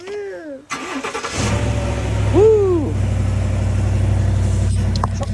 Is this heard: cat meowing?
no